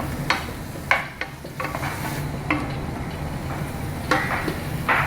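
Chicken and mushrooms soaking in a little water are stirred in a pan, with a few sharp utensil knocks and scrapes over a steady low simmering hiss, close by and without speech.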